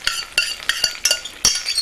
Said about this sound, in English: I'll take my spatula and lift up the veal